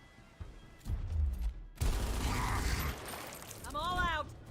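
Shotgun blasts in a first-person shooter video game, two loud booming shots with mechanical handling noise between them, under a man's radio-style voice.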